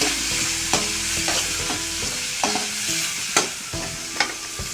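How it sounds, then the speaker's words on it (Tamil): Onion, tomato, garlic and ginger paste sauté in a pan for a vada curry, a loud continuous sizzle with regular scraping stirs of a spoon, close up and without speech. "வெங்காயம் தக்காளி பூண்டு இஞ்சி பேஸ்ட்டு எல்லாம் கலந்து ஒன்றா போடுறேன் பாருங்கள் நல்லா வதக்கணும்"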